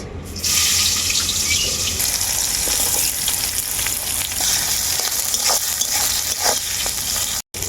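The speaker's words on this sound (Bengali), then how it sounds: "ওই তেলের মধ্যেই দিয়ে দেব কুচনো পেঁয়াজ" Chopped onions dropped into hot oil for a country chicken curry, a loud, steady hissing sizzle with occasional clinks and scrapes of stirring, close by and with no talking.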